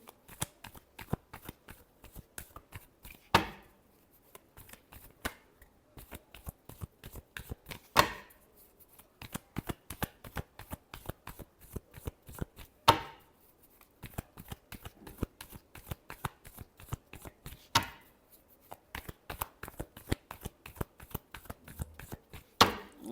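Tarot cards are shuffled close by in quick, soft riffling taps, with a louder flurry every few seconds, quiet and without talk.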